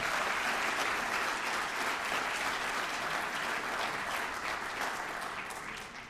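A crowd at a city's State of the City event breaks into sustained applause, moderately loud and even throughout, tapering slightly at the end.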